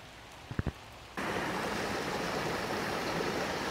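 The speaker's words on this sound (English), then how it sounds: "this looks like where the water exits the in-ground filtration system." A few faint knocks, then a steady rush of water from an in-ground filtration system outlet cuts in and continues loudly and evenly to the end.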